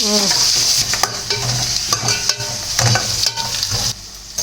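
Onions sizzle and crackle in hot oil for egg curry while a utensil stirs and scrapes the pan in uneven strokes, close and fairly loud.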